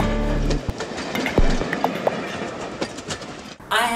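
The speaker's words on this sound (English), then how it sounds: "Where is the train? Here! We see the train." A train rumbles past with clattering wheels and rushing noise, a brief harmonic tone at the start and a louder burst near the end.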